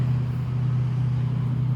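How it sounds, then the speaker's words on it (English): Steady low rumble of road traffic, a constant engine-like drone with no distinct passing vehicles, moderately loud and continuous. "Sorry about the road noise."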